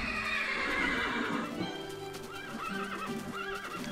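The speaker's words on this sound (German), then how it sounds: "Ich habe jetzt, glaube ich, 30 Pferde gespawnt." Several horses whinny and neigh in Minecraft with the Fossil & Archeology mod, close and fairly loud, with repeated calls over a busy game backdrop and hoof clip-clops.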